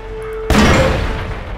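Tank cannon fired at the turret of a KV-5 in World of Tanks, a single sudden loud blast that decays into a rumbling tail after a steady engine hum.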